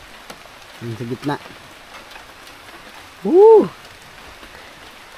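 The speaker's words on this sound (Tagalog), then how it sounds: "Masyadong lakas na yung ulan." Heavy rain falls steadily on a tree house under construction, a constant broadband hiss throughout, with brief voices and a short exclamation over it.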